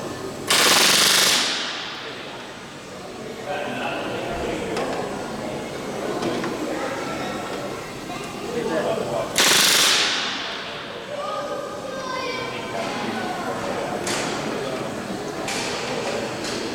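A rivet gun drives rivets into the rear fuselage of a Lancaster bomber under restoration, with two loud, close rattling bursts and lighter hammering and clatter between them, while people talk in the workshop.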